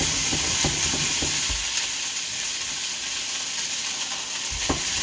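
Food sizzles loudly and steadily in a pan close by, with scattered clicks and taps from stirring utensils, and no talk.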